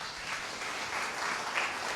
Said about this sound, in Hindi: क्या ताली बजनी चाहिए।